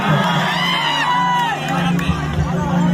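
A large crowd at a stage show roars and cheers continuously, with whoops and shouts rising over a dense babble while an amplified voice speaks over the noise.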